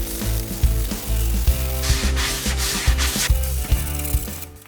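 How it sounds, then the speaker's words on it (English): Sandpaper rubs back and forth against wood by hand in a steady, rhythmic scratching, close up, with soft knocks between strokes. "And I'm sanding this down by hand."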